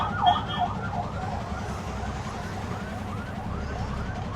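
An ambulance siren wails on the NH44 highway, its rising and falling tone cycling steadily and fairly loud over a constant low road rumble.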